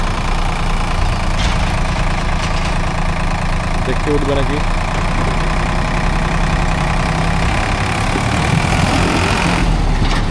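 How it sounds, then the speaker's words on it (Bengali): A large 4x4 vehicle's engine idles and labours steadily while towing another vehicle by a thick rope in a rural field, a continuous loud rumble with people talking over it. "সামনে যে গাড়িটা আছে 4x4 বিশাল টানছে গাড়িটার"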